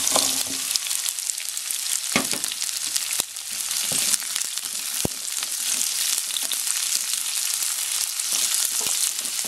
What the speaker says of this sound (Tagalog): So, lulutuin natin itong onion.